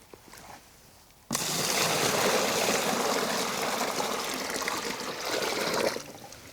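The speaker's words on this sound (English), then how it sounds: "I have 3 gallons of water right here. We're gonna pour it in and see if anything leaks out." Three gallons of water pour into a Milwaukee Packout 48-quart XL cooler in a steady, loud rushing stream that starts suddenly and runs for about five seconds before stopping.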